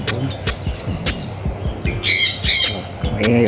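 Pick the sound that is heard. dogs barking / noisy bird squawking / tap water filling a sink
noisy bird squawking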